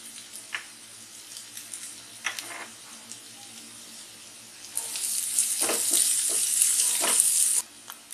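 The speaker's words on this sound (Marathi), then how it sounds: "कांदा चांगला असं ब्राऊन झालेला आहे आणि आता हे चांगलं असं आपण परतून घेणार आहोत" Browned onions with ginger-garlic paste sauté over medium heat for jackfruit bhaji, with soft stirring scrapes and a sizzle that swells louder in the second half.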